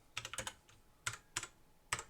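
Computer keyboard keys pressed while typing in a Jupyter notebook, including a tab key press: a quick cluster of crisp clicks, then a few separate taps spaced apart, close and quiet.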